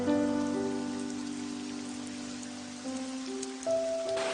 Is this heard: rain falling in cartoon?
yes